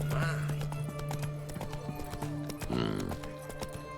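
Roach the horse in The Witcher 3 galloping with rapid hoof clip-clops and letting out a whinny near the end, mixed with game music and a voice talking over it.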